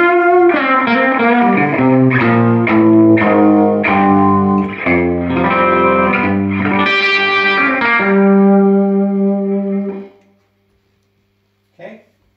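Electric guitar played through a Little Walter 8 watt tube recording amp with the treble turned up slightly, a warm, slightly driven melodic line with sustained notes, close and loud, ending with a brief pick noise.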